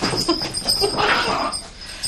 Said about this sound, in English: And now the dogs are all fighting.